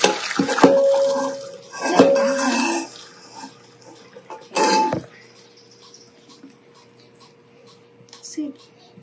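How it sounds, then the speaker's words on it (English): Boiled carbonara pasta is drained into a colander, with close bursts of pouring, splashing water and light clatter that trail off into quieter drips, while a voice talks intermittently. "I-drain na natin ang ating pasta."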